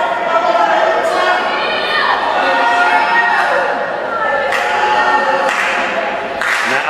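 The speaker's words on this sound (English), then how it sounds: "Clapping." Wrestling crowd in an arena clapping in rhythm and murmuring during a gauntlet match, with a commentator talking over the steady mass of hands.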